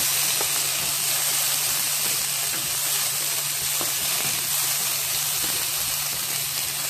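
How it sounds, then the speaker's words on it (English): Cauliflower rice cooks with onions, spices and a little oil in a hot pan, giving a loud, unbroken hiss and sizzle with a few faint clicks from stirring. "And I'm going to stir it all, because remember that I already have the spices and the little bit of oil that I added."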